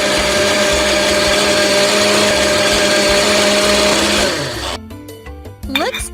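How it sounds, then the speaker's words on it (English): A kitchen blender in a kids' video game whirs loudly and steadily, blending iced coffee with ice and milk, then winds down and stops, followed by short game sound effects. "Great! Now blend everything."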